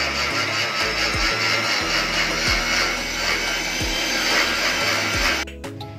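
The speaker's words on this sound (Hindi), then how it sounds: "अब क्या करेंगे, ये जो हम बचे हुए साइड्स हैं इसको ग्राइंड कर लेंगे मिक्सी में।" A kitchen mixer grinder whirs loudly and continuously as it grinds leftover bread crust sides into fine crumbs, then cuts out just before the end.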